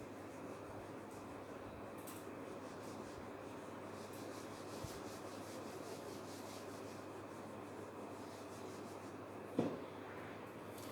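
A teacher wipes writing off the classroom board with a steady, faint rubbing swish that runs on and on, with a single knock near the end and no talking.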